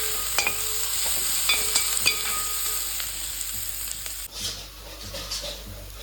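Shallots sautéing in a pan for murrel fish curry, a steady close sizzle and crackle with occasional sharp stirring scrapes and clinks, then a brief dip before the frying hiss resumes.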